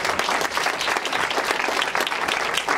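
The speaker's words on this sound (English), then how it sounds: "Can we get another round of applause for Miguel?" Loud, close audience applause at a film premiere event, dense steady clapping from a crowd throughout.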